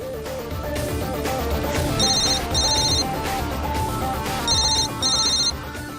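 A phone ringtone chimes in two short bursts, repeating a bit later, playing over dramatic background music.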